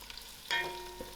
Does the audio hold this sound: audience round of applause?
no